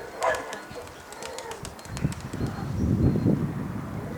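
Pigeons coo softly nearby amid fluttering and rustling, with a few sharp clicks and a low muffled voice in the background.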